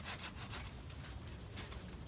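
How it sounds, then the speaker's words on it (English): A handsaw cuts through a fibrous banana plant stem with soft, rhythmic rasping strokes, quiet and close, about four strokes with no talking. "I just simply used my handsaw to make all of these cuts"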